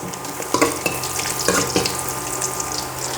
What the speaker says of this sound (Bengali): আমার পেঁয়াজ তো পুড়ে যাচ্ছে